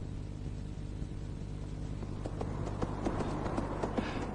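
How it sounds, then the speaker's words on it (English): A small grey horse walks along with soft, distant hoof clip-clops under a low rumbling background, the hoofbeats growing more distinct and rhythmic toward the end. "Titus turns his small grey horse in the direction of Gormenghast forest"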